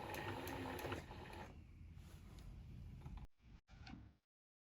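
Sewing machine running a straight stitch through boiled wool, a steady mechanical whir for about three seconds, then a few short bursts as it stops and restarts.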